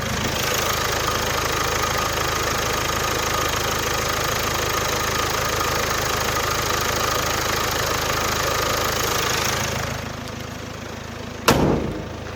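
A diesel SUV engine idles steadily with the bonnet open, a low, even rumble for about ten seconds, then drops away, followed by a brief thump.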